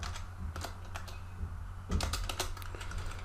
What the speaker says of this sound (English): I simply type here the search query